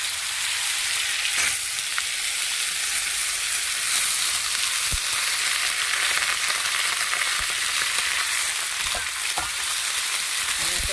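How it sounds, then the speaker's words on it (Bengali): Thin slices of bottle gourd fry in hot oil with a steady, hissing sizzle, a few faint taps of utensils scattered through it. Close, even and continuous, no talking. "লাউটা লাউ পাতলা পাতলা করে কেটে রেখেছি, এটা দিয়ে দিচ্ছি তেলের মধ্যে।"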